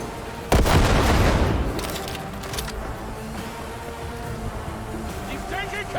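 Gunfire in the video game Cyberpunk 2077 opens with a loud, sudden booming blast that rings out and decays over about a second, followed by a sustained rumbling roar with scattered bursts, and voices talking underneath.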